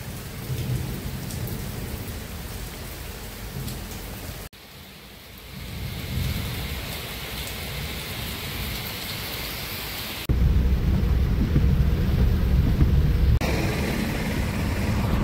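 Heavy rain pours down with thunder, a loud, dense roar of rain on surfaces with deep rumbling underneath, steady throughout apart from a few abrupt jumps in level, with no voices.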